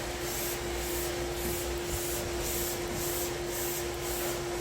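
A clay bar is rubbed back and forth over car paint during a hand wash, giving a close, steady rhythmic scrubbing hiss with regular strokes about twice a second.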